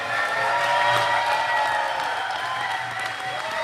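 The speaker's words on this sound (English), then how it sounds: "One more time, round of applause for Burning Spear." Crowd applause and cheering for Burning Spear closing the main stage at the Rototom Sunsplash reggae festival after midnight, a dense, sustained wash of clapping that holds steady throughout.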